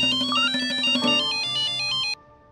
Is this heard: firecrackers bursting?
no